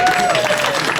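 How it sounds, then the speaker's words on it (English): Applause and cheering from a crowd gathered at a car meet, a dense wash of clapping with voices mixed in, loud and close throughout. "round of applause"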